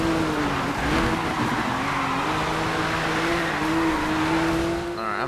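A car engine in the Need for Speed Rivals racing game drones steadily and loudly, holding a sustained tone with small pitch shifts and a brief change near the end, with no talk over it.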